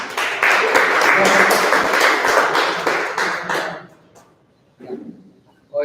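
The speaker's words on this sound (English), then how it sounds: "we need to give an applause for the previous presentation." Audience applause for a preceding presentation at a startup-themed talk, a few seconds of steady clapping that fades out, followed by quiet room sounds and a brief voice.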